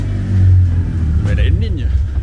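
A Fiat Uno Rallye engine runs roughly, its low rumble wavering and struggling to hold idle, close by, while someone speaks over it.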